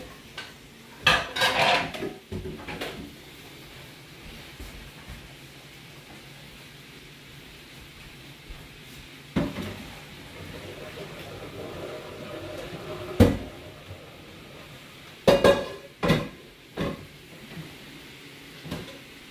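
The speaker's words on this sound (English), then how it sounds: "I'm going to drain the ravioli." Cooked ravioli drained from a pot: scattered metallic clanks and clatters of cookware at close range, separated by quieter stretches with a low watery wash underneath.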